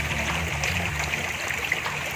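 A river flows past its bank, a continuous broadband rushing and trickling with small splashes scattered through, steady and close, with no talking.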